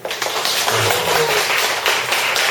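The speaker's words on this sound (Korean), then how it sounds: "다시 한번 박수 부탁드리겠습니다" Audience at a poetry lecture applauding, loud, dense clapping that continues steadily from start to finish.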